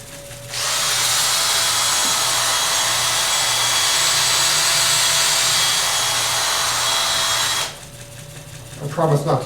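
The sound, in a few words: sanding wood with 320-grit sandpaper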